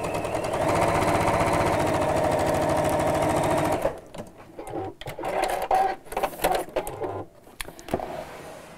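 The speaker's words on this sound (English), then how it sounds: "top stitch across here. Without it disappearing into the sewing machine." A sewing machine top stitches across fabric for a heart-shaped pin cushion, running steadily and loudly for about four seconds before stopping, followed by softer irregular handling noises.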